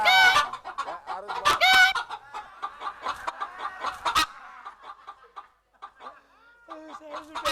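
A person's voice imitates a clucking chicken with a run of sharp, rhythmic squawking clucks, loud and close at first, then softer broken clucks trailing off before a few final calls.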